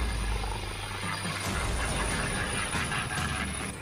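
Helicopter rotor thrum and roar as the aircraft attempts to land in strong wind, carrying a former Karnataka chief minister, with debris blowing about; a steady, loud, broadband wash that runs continuously throughout.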